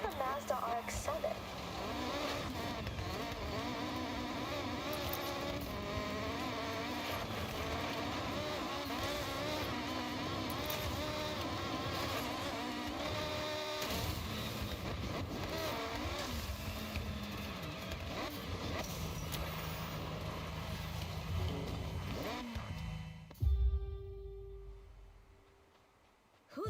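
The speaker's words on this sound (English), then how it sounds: "With an engine sound like the RX-7, it is a complete crime that it's been silent for so long" A Mazda RX-7 engine idling and revving in Forza Horizon, a steady mid-level drone with pitch shifts, under a voice talking most of the way, then cutting off abruptly near the end.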